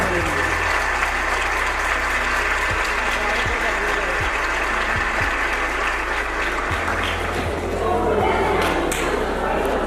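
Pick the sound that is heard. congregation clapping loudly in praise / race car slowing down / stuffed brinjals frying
congregation clapping loudly in praise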